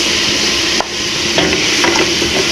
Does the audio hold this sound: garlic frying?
yes